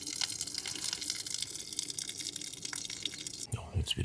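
Water splashes and gushes from an opened tap, a steady continuous rush with a brief change in flow near the end, heard at close range with no talking.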